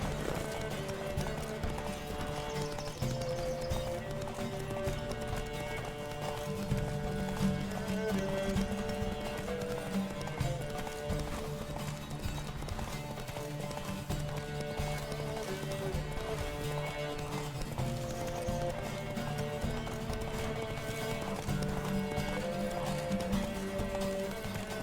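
A horse gallops in The Witcher 3 with a steady, rapid clip-clop of hooves that runs throughout under constant game music.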